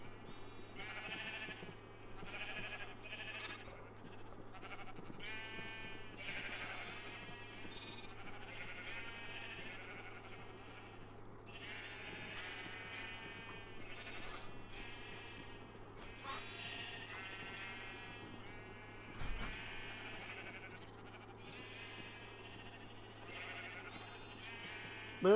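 Sheep in the video game Minecraft bleat over and over, many short wavering calls overlapping at a moderate level above a steady low hum, with a voice heard faintly at times.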